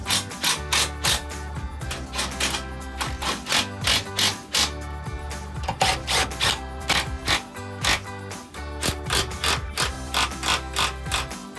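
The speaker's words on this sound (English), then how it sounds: "Now we're just tightening these bolts down." Ratchet clicking in quick repeated bursts while bolts are tightened on a Mopar Class IV hitch receiver for a Jeep Gladiator JT, close and steady with short pauses between runs of strokes.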